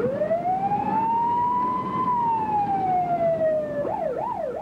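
An ambulance siren wails alone on a foggy spring evening, one long rising and falling tone that switches to a faster warbling yelp near the end, loud and close.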